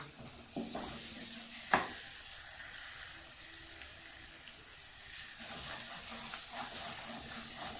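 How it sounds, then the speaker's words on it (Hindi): Spice masala fries in a pan for an egg and potato curry, giving a steady soft sizzle close by, with a few sharp clinks and scrapes of stirring, including one louder knock near the start. "अच्छे से आप लोगों ने इसको मसाले को जो है वो भून लेना है।"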